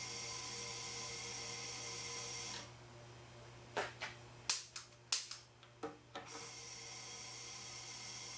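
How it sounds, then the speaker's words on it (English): A homemade MAP gas tennis ball launcher fires with a sharp, loud pop and a fast-fading crack. Several more quick bangs follow irregularly over a few seconds against a low steady hum, with no talk. "I now have a fully armed and operational tennis ball launcher."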